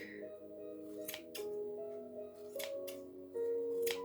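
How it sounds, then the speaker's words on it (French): Scissors snip through yarn while a pompom is trimmed: a few sharp, close cuts spaced about a second apart, heard over a quiet tonal hum in the background. "je fais entrer mon ciseau à l'intérieur. Et je coupe."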